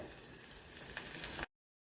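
Shallots and curry leaves fry in hot oil for a sambar tempering, giving a steady close sizzle that cuts off suddenly.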